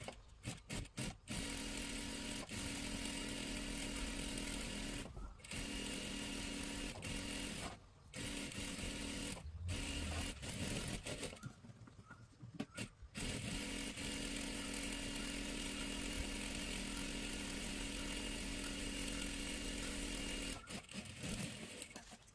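Close and continuous, a sewing machine runs a double line of stitching along a salwar in long whirring bursts, broken by several brief stops and restarts.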